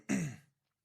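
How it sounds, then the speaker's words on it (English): One short, close throat clearing, a quick rough rasp lasting under half a second, followed by silence. "me clear my throat."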